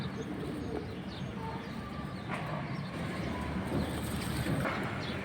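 Pigeons coo softly and repeatedly at a pigeon sale over a constant low rumble of wind or background noise.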